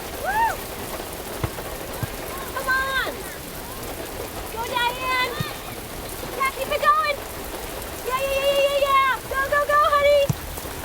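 Steady rain falls throughout an outdoor sports game, a continuous hiss of drops spread across the scene while people talk over it.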